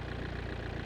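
A 1.9 TDI diesel car engine idling in BeamNG.drive gives a brief, steady low rumble with an even pulsing throb, close and fairly loud, with no voices.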